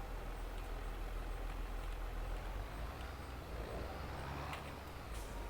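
A truck engine in a farming simulation game, rumbling steadily at low pitch throughout with a heavy, continuous drone and a brief hiss near the end.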